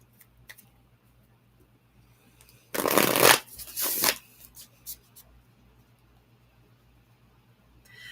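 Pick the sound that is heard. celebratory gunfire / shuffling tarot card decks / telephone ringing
shuffling tarot card decks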